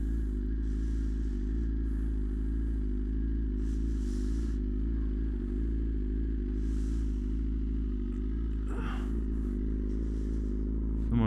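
A BMW S1000RR motorcycle warms up at idle at night, its engine holding a steady low rumble close by, with a brief rattle and clatter near the end.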